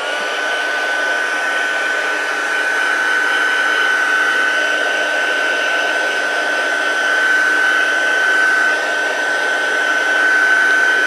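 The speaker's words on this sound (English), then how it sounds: "Just going to heat it from both sides to dry it up." Heat embossing tool blowing hot air to dry wet cardstock during card making, a steady loud whirring hum with a constant whine, unbroken for the whole stretch and heard alone without talk.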